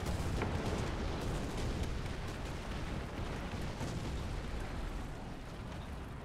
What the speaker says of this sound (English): Oh, those are bombs right next to you.